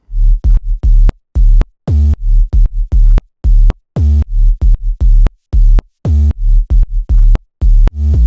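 Punchy 808 sub bass processed through an 808 Power Chain rack, deep gritty booming notes in a rhythmic pattern with short gaps and pitch glides, loud and alone.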